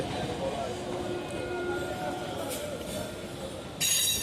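A local train on the Sealdah–Barasat line pulling out of Dum Dum station, a low steady rumble of wheels and carriage noise with faint clinks, heard from inside, ending in a brief louder burst of hiss.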